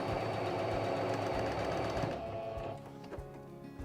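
A sewing machine stitches quilt seams in a steady, close, continuous whir for about two seconds, then slows and softens into lighter, uneven mechanical ticking.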